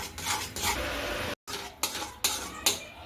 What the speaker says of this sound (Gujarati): આ રીતે આપણે ગળને પણ સારી રીતે મિક્સ કરી લેવાનું છે